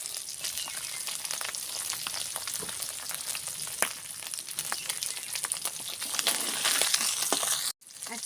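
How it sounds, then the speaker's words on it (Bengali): Nigella seeds crackle and sizzle as they temper in hot oil for a Bengali tangra fish curry, a steady close frying hiss with small pops throughout that cuts off sharply near the end. "এবারে আমি কালো জিরে ফোড়নে দেবো।"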